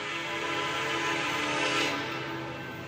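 An Amtrak train with three engines runs on a Canadian National line, a sustained horn-like tone with a broad hiss sounding close and steady for a few seconds.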